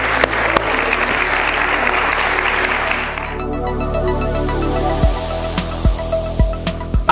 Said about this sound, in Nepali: प्रभुको वचनलाई ताली बजाएर धन्यवाद